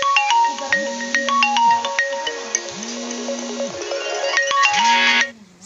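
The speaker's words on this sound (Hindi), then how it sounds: "तब तक फ़ोन आ गया था तो मुझे बीच में फ़ोन कट करना पड़ा" An incoming call sets off a mobile phone ringtone in a rural-style home kitchen, playing a loud, busy electronic melody with repeated swooping tones for several seconds before cutting off abruptly; no one speaks.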